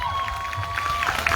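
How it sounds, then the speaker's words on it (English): Crowd cheering and applause at Steinbach Pride 2022, a steady wash of clapping and voices with a sustained whistle-like tone running through, loud and continuous for a brief moment. "Give a big round of applause."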